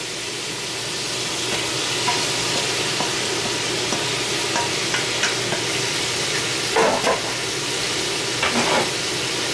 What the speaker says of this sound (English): We adding our sausage and hamburger. Our ground beef back in here, our Italian sausage